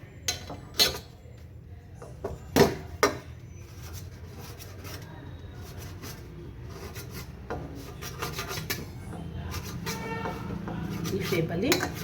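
A knife cuts rolled wheat flour dough into shapes for chips on a board. Sharp taps and clacks come early, then a steady run of soft scraping and tapping, close and moderately quiet.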